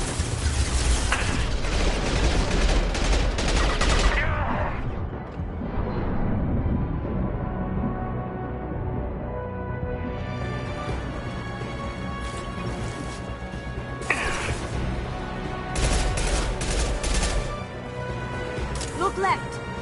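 Bursts of gunfire and crashing impacts in Mass Effect 2 Legendary Edition combat, heavy volleys at the start and near the end, with voices talking over the fighting.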